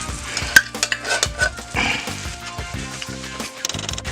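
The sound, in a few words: stirring tomato paste and diced tomatoes with sizzling onions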